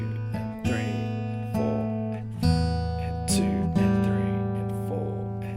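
Fingerstyle acoustic guitar plays a short section of a song, clear plucked notes and chords ringing out close and alone, each attack decaying before the next.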